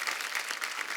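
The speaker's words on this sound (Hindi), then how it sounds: "एक बार जोरदार तालियां दिलीप साहब और धर्म पाजी के लिए।" An audience claps loudly for Dilip Kumar and Dharmendra in a brief, dense burst of steady applause lasting about a second.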